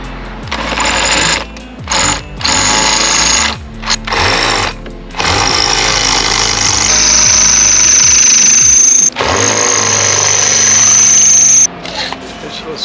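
A drill bores through stainless steel while boat seats are fitted, grinding loudly in several bursts separated by brief pauses before running in a long sustained stretch, with a high whine riding on top.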